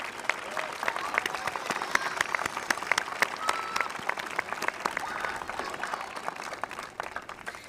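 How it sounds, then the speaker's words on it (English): A high school graduation audience gives scattered, fairly distant applause for the class of 2025, with individual sharp claps standing out and faint voices in the crowd. "So please join me in applauding the class of 2025."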